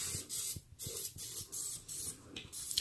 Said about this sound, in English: so let me give it another spray